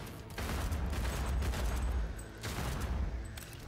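Gunfire from a pistol in the video game Cyberpunk 2077 comes as two dense, loud bursts of rapid shots with a short pause between them.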